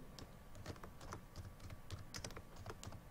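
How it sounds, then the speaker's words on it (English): Computer keyboard keys, including the spacebar, are pressed in a quick, irregular run of soft clicks, close up and fairly quiet, with no talking. "again I will press multiple spacebar keys"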